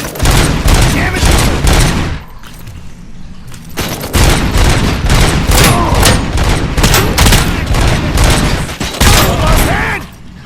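Sustained automatic gunfire in the Robocop Rogue City video game, dense loud bursts of shots with short pauses between volleys and faint shouted voices.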